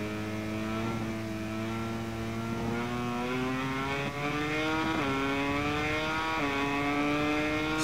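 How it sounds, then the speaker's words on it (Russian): Honda MotoGP bike engine in the MotoGP 21 racing game at Le Mans, a steady high-pitched whine with rising harmonics that climbs through the gears, briefly dipping at two shifts, loud and continuous with no talk. "слышу звук мотоцикла"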